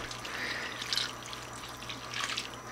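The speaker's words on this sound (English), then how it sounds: "Then we're going to add some water to this" Water poured into a gumbo pot in a home kitchen, about two cups, giving a steady soft splashing and trickling that swells briefly twice, fairly quiet and close, with no talk over it.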